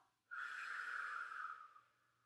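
A single long, soft breath blows out over a cup of hot chocolate to cool it, rising suddenly and then tapering away in an otherwise quiet room.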